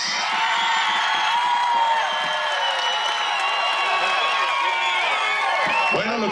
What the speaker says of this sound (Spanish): Señoras y señores, el aplauso al equipo número 2.